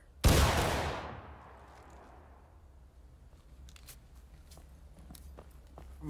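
A musket volley in the Civil War game War of Rights: one loud, simultaneous crack of many muskets firing together, then a long rolling decay, with scattered faint pops and footsteps afterward.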